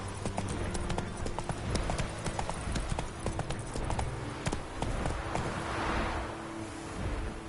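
Hooves of a horse clip-clop in a fast, steady galloping rhythm in a PS4 video game, loud and close, with a brief voice over them.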